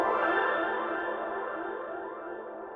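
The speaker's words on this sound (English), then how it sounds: "But this reverb you're hearing" An eight-voice polyphonic Sine FM synth patch, played through a plugin reverb, holds a bright sustained chord that slowly fades as its long, lush reverb tail decays.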